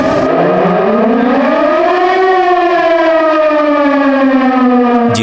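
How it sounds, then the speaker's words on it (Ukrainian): A loud civil defense siren wails steadily during a warning system test in Chernivtsi, Ukraine, its tone slowly rising and then holding, filling the whole stretch with no other sound. "Тут лунають звуки сирени"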